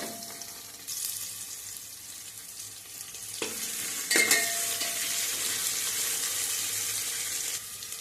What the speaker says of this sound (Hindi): अब यहाँ पे प्याज डाल देते हैं।